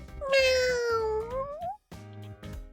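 A pet cat lets out one long, loud meow that rises and falls in pitch and is close to the microphone. Quieter household noise follows it, with no talk over the cry.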